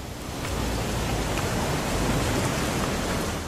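Steady rain falls in the video game What Remains of Edith Finch, a dense, even hiss of drops with faint patters, continuous and close with no voices.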